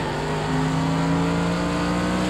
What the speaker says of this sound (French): Hop, on accélère fort pour voir.